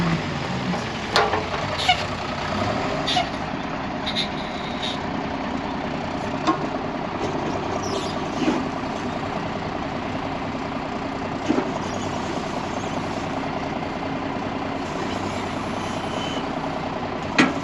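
A truck engine idles and rumbles steadily while a car is dragged on a dolly behind it, with occasional metallic clanks and knocks over the constant drone.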